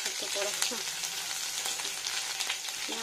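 Crushed ginger and bori (sun-dried lentil dumplings) frying in a pan for a vegetarian bori sukto, giving a steady close sizzle with a few scraping stirs and no talking.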